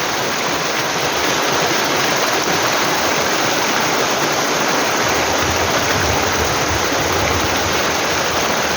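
Water rushes steadily down a mountain stream on Uludağ toward the Aras waterfall near Bursa, a loud, continuous broadband roar that holds unchanged throughout with no voices.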